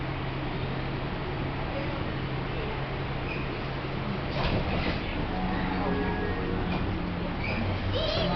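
Los Angeles Metro A Line train riding toward Union Station, with a steady, continuous rumble of the rail car in motion and faint squeals and clanks layered on top, close and even throughout.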